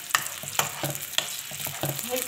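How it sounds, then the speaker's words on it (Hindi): Two medium roughly chopped onions fry in hot cooking oil for a carrot-fenugreek keema, a close steady sizzle broken by several sharp clatters of stirring. "कुकिंग ऑयल को मैंने गर्म करने के लिए रख दिया है। अब मैं इसमें दो मीडियम प्याज डाल दूँगी"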